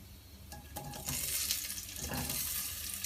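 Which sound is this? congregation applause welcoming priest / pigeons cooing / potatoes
potatoes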